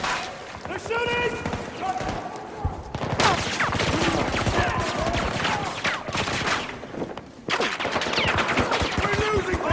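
Dense gunfire from a Battlefield 2042 match: continuous automatic bursts and rattling shots fill the scene, loud and close, with shouted voices over the combat.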